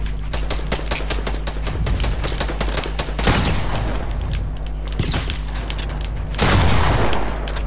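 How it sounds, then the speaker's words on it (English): Video game gunfire: loud, close bursts of rapid automatic fire repeat in several volleys, with heavy booming thuds between them and no talk. "Yes, I am shooting."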